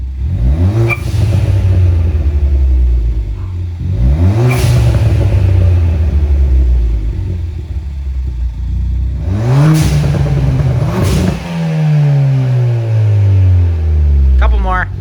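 Ford Fiesta ST fitted with a Maperformance exhaust revs repeatedly to about 3,500 rpm, each sharp climb dropping back to a deep idle, loud and close, with several throttle blips in sequence.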